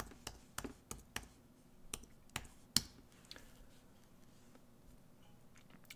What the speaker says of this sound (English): I'm gonna type in chipmunk